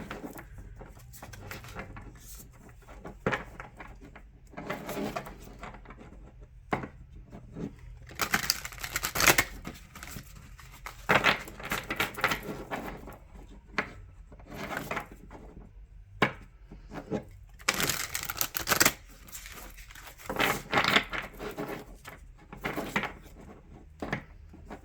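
Tarot cards are shuffled by hand in a quiet room, giving soft irregular bursts of riffling, tapping and slapping with short pauses between them.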